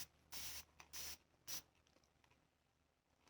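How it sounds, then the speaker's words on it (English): A spray bottle mists water onto a wig in three short, close, crisp hissing bursts, the last one briefest, followed by quiet. "we take our handy dandy water bottle and we are going to spray."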